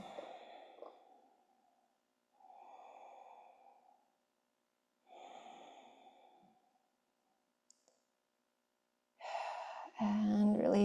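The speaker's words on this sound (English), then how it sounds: "couple deep breaths." Deep breaths during a gentle yoga stretch come as slow, soft exhales in several separate breaths with quiet gaps between them, close and alone, ending with a louder rustle of movement.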